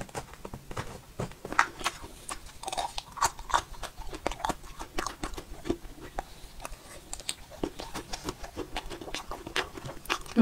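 Food being scooped and eaten in an ASMR session, with a blue doughnut, jelly and braised mushroom cake: a rapid series of close, soft scraping and crunching clicks and chewing sounds, no voice.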